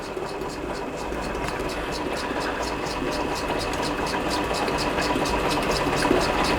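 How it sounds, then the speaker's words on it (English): A Stuart Turner piston water pump runs at about 200 RPM, giving a steady, quiet mechanical hum with evenly spaced rhythmic ticks throughout. "close in on the pump in action."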